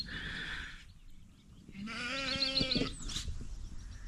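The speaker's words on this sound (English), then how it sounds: "And there's a sheep right there." A sheep bleats twice nearby in the hills near Hollinsclough, Peak District, a short nasal cry followed by a longer wavering bleat, with quiet outdoor background between.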